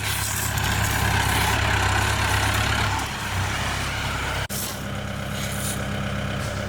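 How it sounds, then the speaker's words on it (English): A loaded dump truck delivering stone for a backyard fire pit patio, its heavy diesel engine idling loud and steady nearby, a brief air brake hiss cutting in partway through before the low rumble continues. "This fool just brought you a dump truck load of stone and didn't kill your yard."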